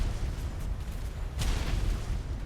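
Cannon fire in a naval battle video game: a continuous low rumble of distant booms, with one sharper, louder blast rising above the dull, rolling bombardment.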